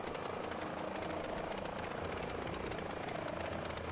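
An AI-controlled helicopter circling in Microsoft Flight Simulator over a Melbourne city scene, a steady continuous rotor and engine drone that stays level and fairly distant throughout, with no talking.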